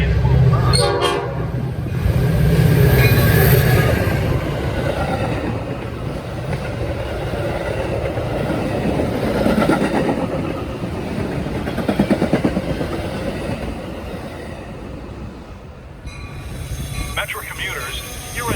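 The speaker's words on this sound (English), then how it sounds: "The next inbound Metra train to Chicago is now arriving in your station." Metra commuter train arriving at a suburban Chicago-line station at LaGrange, a loud continuous rumble of rail cars and wheels with a horn sounding, under a station public-address announcement.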